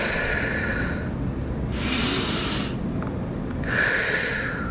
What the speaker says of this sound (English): Take 3 deep breaths with me right now.